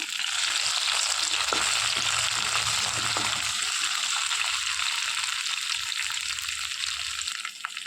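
Ginger and mint sizzle in hot oil in a pan while cooking a green masala mackerel dish, a steady, even frying hiss that runs throughout without pause and with no talking.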